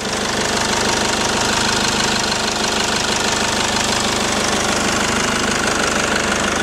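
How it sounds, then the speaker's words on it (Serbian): A Mercedes OM646 2.2-litre diesel with a million kilometres on it idles close by, a loud, even, rapid clatter with steady knocking and no pauses. "Evo ga, čujete kako radi, to je taj Mercedesov AM 646."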